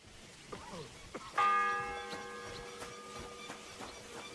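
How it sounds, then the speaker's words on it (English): A single church bell in the medieval game Kingdom Come: Deliverance II strikes once against quiet ambience, its clear metallic toll ringing out and slowly decaying. "The first bell."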